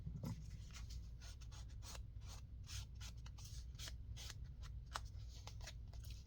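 Scissors snip repeatedly through a clothing tag, rounding off its corners in a quick string of sharp, close cuts over a faint steady hum.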